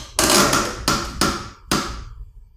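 Wood glue joints cracking and popping apart under more than 3,000 pounds of clamp pressure: four sharp, loud cracks spaced about half a second apart, each followed by a short rattling decay, with no talking.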